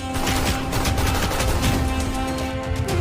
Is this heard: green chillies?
no